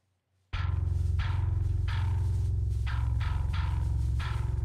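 A different parallax-style synth bass patch plays a gritty, distorted low line with bright attacks on each note, several notes in a steady rhythm lasting about 4 seconds, loud and with no voice over it.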